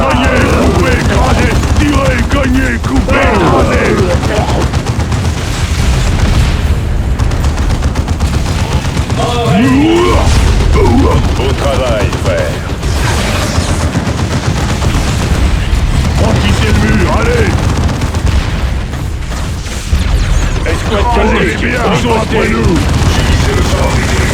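Gunfire and explosions from the Dawn of War 2 strategy game, loud dense bursts of shooting and booming blasts running continuously, with voices speaking over the battle.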